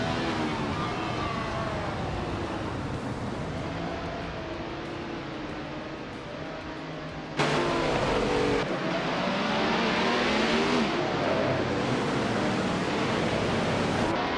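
Race cars in a video game at Sepang, a field including a classic 1971 Ferrari 312, roar together in a loud, continuous engine drone, with a jump in intensity as the pack surges and revs rise.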